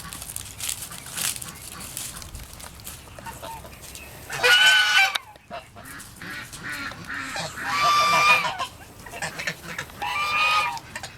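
Loud honking calls from several birds, in bursts against a noisy background with a voice talking at times.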